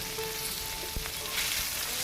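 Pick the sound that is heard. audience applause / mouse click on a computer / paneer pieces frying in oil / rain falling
paneer pieces frying in oil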